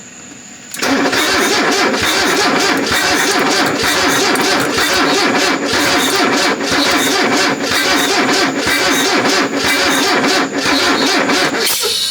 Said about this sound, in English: work the throttle while starting it up and see if we can get this thing to fire